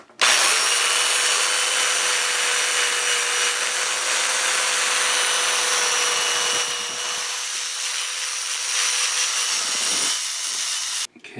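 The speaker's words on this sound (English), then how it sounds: "Now I'm going to switch to a polishing pad. I'm going to try this lumpy one first." A power tool fitted with a lumpy polishing pad works on a Mercedes W140 S-Class wheel, giving a steady, loud whirring whine that holds for about ten seconds before cutting off.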